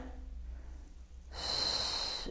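A pregnant woman breathes during a wall pilates exercise: quiet at first, then a long, close, airy exhale that grows louder and holds steady.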